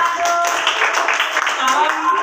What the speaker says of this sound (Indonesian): Sekarang kita beri aplaus untuk kelompok 5.